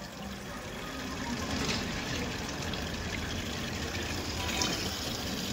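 Steady rushing water from a tap at a roadside truck stop, used for filling jars, runs continuously and fairly loud with faint background noise.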